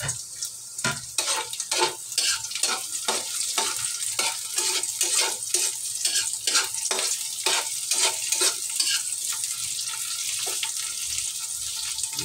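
Garlic sizzles in hot oil in a pan while being stirred, giving a steady bright frying hiss broken by repeated scraping strokes of the utensil, close and fairly loud with no talking.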